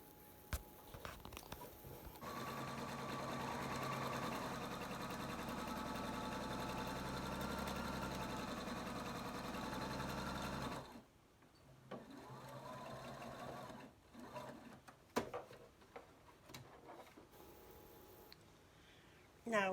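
A sewing machine stitches a 1/4-inch seam along the 8-inch edge of a folded fabric face mask, running steadily and closely for about eight seconds, then stopping, followed by quieter handling sounds and brief noises.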